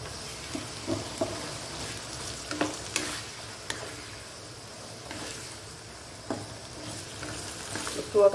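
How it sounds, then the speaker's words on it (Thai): Long beans stir-frying with minced pork belly in a hot pan, with a soft continuous sizzle and intermittent scrapes and taps of a spatula at an irregular pace, close and moderately quiet. "ผัดให้ถั่วสุกนะคะเนาะ"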